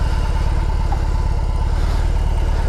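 A BMW R18 motorcycle's big engine idles close by with a loud, deep, even thumping pulse that holds steady all the way through.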